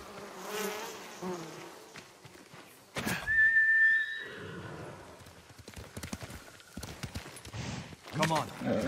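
In the Ghost of Tsushima video game, a horse whinnies loudly and clip-clops nearby over insect buzzing, while voices talk between the sounds.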